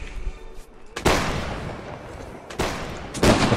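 Massed musket volleys from line infantry in a Napoleonic-era battle game, three loud broadband cracks, each followed by a long rolling rumble and crackle of many shots.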